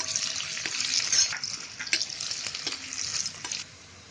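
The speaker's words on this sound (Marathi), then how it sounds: "मी त्यात तव्यामध्ये आता एक कांदा फ्राय करायला ठेवला होता थोडासा, तो आता टाकले" Onion fries in a tawa, a close sizzle with stirring scrapes and a few light clinks of a utensil against the pan, loudest in the middle and then easing off near the end.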